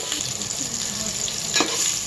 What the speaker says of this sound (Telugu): ఆనియన్స్ వేసుకొని గోల్డ్ కలర్లోకి వచ్చిందాకా వేగనివ్వాలి